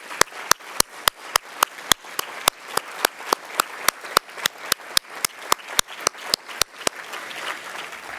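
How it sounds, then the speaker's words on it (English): An audience at a conference opening session applauds, sharp, regular, loud claps dominating over a softer wash of scattered clapping, continuing for about seven seconds before fading into diffuse noise. "but I'm just going to do a round of applause."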